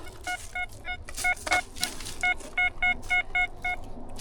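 Short electronic beeps from a metal detector repeat in quick bursts, some paired, over a faint outdoor background hiss near old trenches; the tones sound close and fairly clear.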